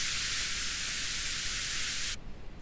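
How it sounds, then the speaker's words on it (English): Dense, steady hiss of white noise used as a bass layer in music production, loud and constant for about two seconds before cutting off abruptly. "I have a white noise,"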